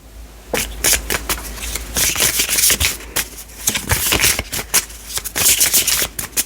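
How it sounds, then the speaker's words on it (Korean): Tarot cards are shuffled and drawn close up: repeated rapid riffling and sliding bursts that come in quick succession at steady volume, with no voices. "제가 추가 카드를 조금 뽑아보도록 하겠습니다."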